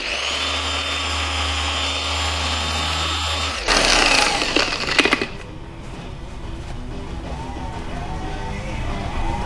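A dual-action polisher with a cutting pad and compound works over scratched car paint, a steady whirring drone that bursts louder and rougher midway, then settles back to a continuous hum.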